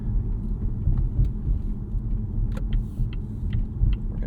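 A 2024 Volvo S60 Recharge T8 plug-in hybrid sedan rolls through city traffic with a steady low cabin rumble and road noise, punctuated by faint light clicks and rattles inside the car.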